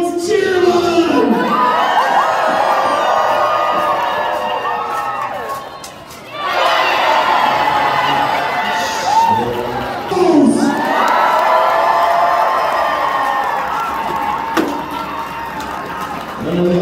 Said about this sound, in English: Here goes Sir Lawrence, cheer on!